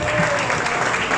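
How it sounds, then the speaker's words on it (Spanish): Loud, dense applause from a church congregation during a Spanish-language service, a short continuous burst with voices mixed through it. "Aplaude al gran Rey en esta mañana."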